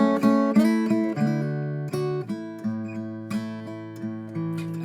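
Solo acoustic guitar plucking a melody with notes picked in between, clear ringing tones in a steady gentle rhythm, close and unaccompanied.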